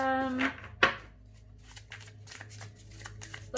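Tarot cards are shuffled by hand in quick, crisp riffling bursts and taps, close and fairly quiet, with a brief voice at the start.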